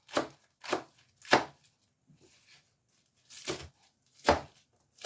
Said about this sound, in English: And then we're just going to roughly chop this.